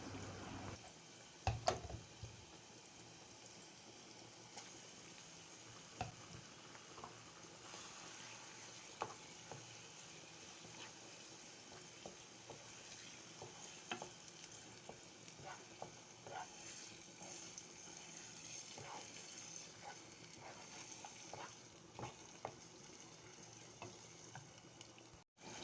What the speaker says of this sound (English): add the tomato and pepper mix and keep frying